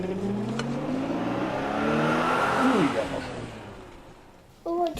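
A cartoon car's engine revs and pulls away, its pitch sweeping upward and then fading into the distance, with voices talking over it and another sound cutting in at the end.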